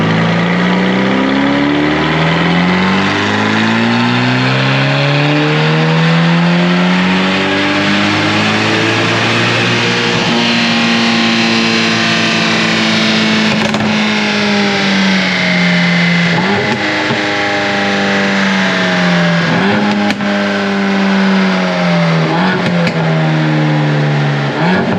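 Mercedes-AMG GT Black Series fitted with OPUS downpipes, loud and close, its engine revving up and down in long sweeping pulls with sharp exhaust pops and crackles between throttle blips, no talking.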